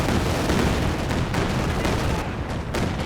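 Aircraft strafing gunfire in the World War II strategy game Company of Heroes 2 rattles as a dense, continuous barrage of loud impacts and bursts across a late-game tank battle.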